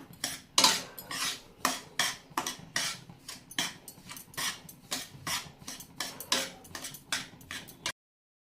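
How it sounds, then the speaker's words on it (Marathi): Semolina roasting in ghee in a pan is stirred with a spoon, giving a run of crisp, evenly spaced scraping and clinking strokes, close and fairly quiet, before stopping abruptly. "आता तुपामध्ये चांगलं खरपूस अजून आपण चांगलं भाजून घेऊया"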